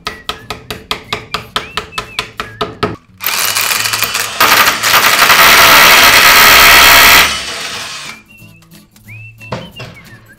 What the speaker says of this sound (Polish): Przez wwiercone wcześniej otwory wiercimy